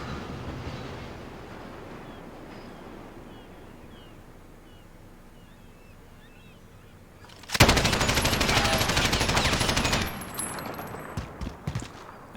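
A PKM machine gun fires in a video game, one sustained loud burst of about two and a half seconds followed by a few scattered trailing shots, over a low steady background hum.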